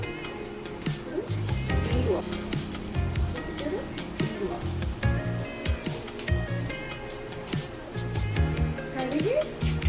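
Onion, green chillies, mustard seeds and cumin sizzle steadily in hot oil, a constant crackling hiss running under nearly continuous talking from a nearby voice.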